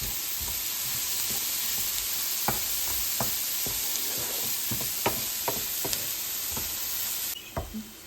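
Chopped tomatoes and small hot green chili sizzle and fry steadily in a pan, with a spoon scraping and stirring in repeated clicks and knocks over a constant hiss, close and alone.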